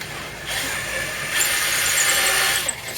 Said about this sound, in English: Then we'll take our drill